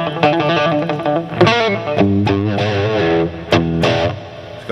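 A heavily distorted electric guitar through a Randall T2 head amp simulator plays chords and short riffs, loud and buzzy, with sharp attacks and brief pauses between phrases.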